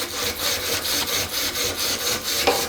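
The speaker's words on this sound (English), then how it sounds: "Look at that, we have a bow sander." A bow sander works back and forth on wood, giving a steady, fairly loud rhythmic rasping with regular strokes about every quarter second, close by and with no voices.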